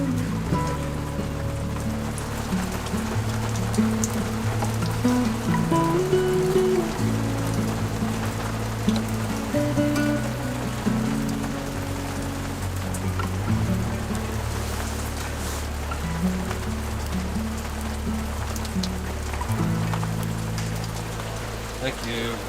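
Steady rain falls on a rainforest camp, a constant soft hiss of drops on surfaces, with a low rumbling hum underneath and faint voices in the background.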